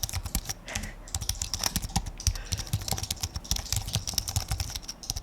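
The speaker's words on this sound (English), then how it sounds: "It's a keyboard and I type." Fast typing on a computer keyboard inside a house, a dense run of loud, close key clicks and clacks in an irregular rhythm with no pauses, heard alone.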